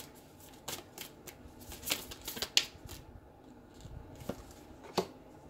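Tarot cards being shuffled and drawn during a couples reading, a series of soft, crisp riffles and flicks scattered irregularly, close by and fairly quiet, with no talking over them.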